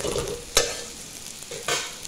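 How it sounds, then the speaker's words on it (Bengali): Coconut frying in a pan as it is stirred, with a steady faint sizzle and two sharp, brief scraping stirs. "আগে একটু ভেজে এখন নাইকলটাকে আমি দিয়ে দেব।"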